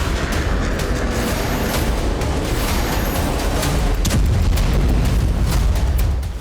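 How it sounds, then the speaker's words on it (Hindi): A Ukrainian S-200 air defense system firing amid explosions, a loud, sustained rumbling roar with deep booming low end and crackling bursts that stays heavy throughout. "यूक्रेन का S-200 एयर डिफेंस सिस्टम इस वक्त एक्शन में है"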